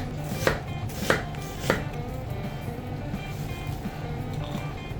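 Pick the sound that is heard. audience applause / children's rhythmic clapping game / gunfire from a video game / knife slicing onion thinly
knife slicing onion thinly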